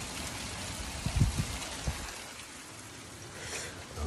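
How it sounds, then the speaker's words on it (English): Hailstorm outside with rain and hail pattering steadily on surfaces, a dense continuous patter with a few louder nearby thuds in the middle, moderately loud and without talk. "I hope that hail doesn't get any bigger"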